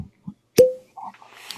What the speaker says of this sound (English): Not much on the cork pop.